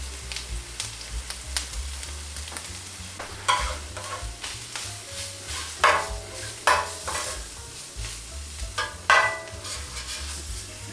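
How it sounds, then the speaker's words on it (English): Flour stirred into a roux and browned in a pan for a vegan Japanese-style curry, with repeated scraping strokes of a utensil against the pan over a low, steady sizzle, no voices. "making a little bit of a roux and browning this off"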